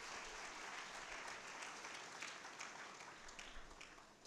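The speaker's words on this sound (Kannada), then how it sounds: "ಚಪ್ಪಾಳೆ ಬರಲಿ ಅಲ್ಲ?" Audience clapping at a student motivational talk in Karkala, a faint, distant, dense patter of applause holding steady throughout.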